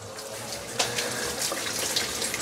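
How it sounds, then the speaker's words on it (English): Tap water runs steadily into a sink as quinoa is rinsed, a continuous splashing hiss with a few louder sloshes and no talking. "Shake up the quinoa a little bit. Okay, so we're just gonna go ahead and wash this."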